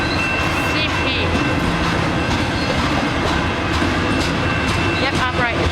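A Canadian Pacific freight train with an AC4400 locomotive rumbles past at Pitt Meadows, close and loud, its steady clatter of wheels and cars continuous throughout, with faint brief squeals.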